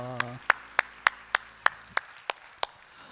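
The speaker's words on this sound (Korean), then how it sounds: "우리 하나님께 영광의 박수합시다" A church congregation claps in unison, about nine crisp, evenly spaced claps in a steady beat, preceded by a brief voice at the start.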